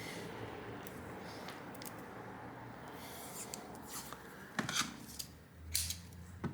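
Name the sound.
tape being applied to a toy speaker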